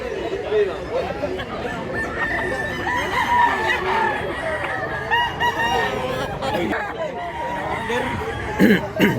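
Many roosters crow and cluck at an early-morning chicken market in Mantalungon, Cebu, overlapping calls near and far over a constant hum of crowd chatter and people talking close by.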